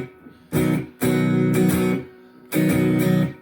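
An acoustic guitar plays a down-up strum pattern with a high G, the pinky lifting off and returning, heard as three bright, close bursts of chords separated by short gaps.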